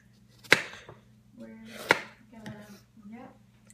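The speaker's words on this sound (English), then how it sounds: "So you're just going to keep cutting those up." A knife strikes a cutting board a few times while baking, sharp irregular chops spaced out over a low steady hum, with people talking softly between them.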